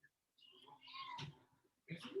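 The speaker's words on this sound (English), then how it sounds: "My dog and my cat are fighting over there, so I just muted myself." A cat meowing while fighting with a dog: two drawn-out, wailing calls separated by a short pause, fairly faint and picked up from a distance.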